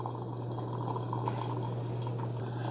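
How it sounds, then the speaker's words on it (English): A BUNN Heat N Brew programmable 10-cup coffee maker brews hot coffee into its carafe, a steady close trickle and pour over a constant machine hum. "we're at 196, the coffee coming out the bottom of that."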